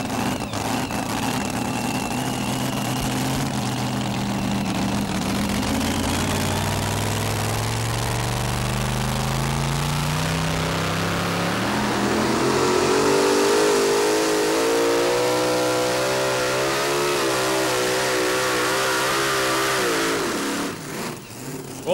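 Modified truck at a truck and tractor pull event, its engine loud and close, rumbling steadily before climbing through rising revs and holding a high, strained roar, then dropping off near the end; no talk.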